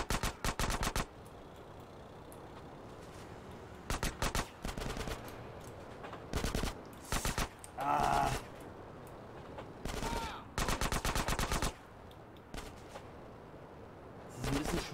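Gunfire from GTA San Andreas Definitive Edition: repeated bursts of rapid automatic shots, loud and close, separated by brief quieter gaps, with a few single heavier blasts mixed in.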